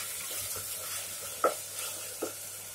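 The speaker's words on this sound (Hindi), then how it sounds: "तो इसको हम पिंक फ्राई कर लेंगे" Onions sizzling as they fry in a pan toward a pink stage, with a steady hiss and a few soft stirring scrapes and clinks, heard close and alone.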